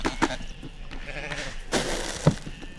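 Old Norwegian sheep of the villsau breed bleating, a few wavering calls at moderate distance over low outdoor background noise.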